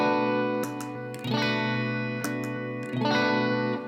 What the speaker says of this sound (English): it is an overdrive pedal